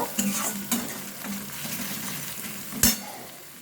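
A ground paste for a chhana curry sautés in a pan with a lively sizzle, broken by repeated spatula strokes and one sharp scrape against the pan near the end.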